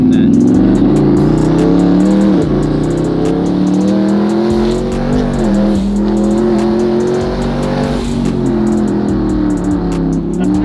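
A twin turbo SRT 392 accelerates hard, its loud engine roar climbing and dipping through gears with a rising turbo whine, heard from inside the car and continuous throughout.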